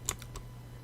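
A few keyboard key presses on a computer keyboard during modeling work in Maya, light and close: one sharp tap followed by two softer ones, then quiet room hum.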